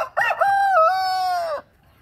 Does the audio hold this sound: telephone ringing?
no